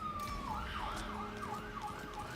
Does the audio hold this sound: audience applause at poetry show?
no